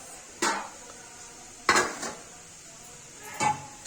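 Flour dough for veg moglai is worked in a bowl: three separate clattering knocks of utensil or hand against the dish, close and fairly loud, with quiet gaps between them and no speech.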